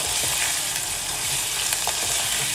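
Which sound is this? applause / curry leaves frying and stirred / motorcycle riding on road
curry leaves frying and stirred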